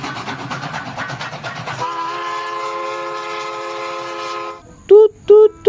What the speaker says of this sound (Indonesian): Ternyata ini kereta api klasik.